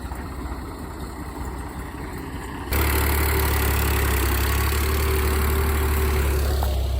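A steady low tractor engine drone idles close by, getting suddenly louder partway through and then holding an even rumble.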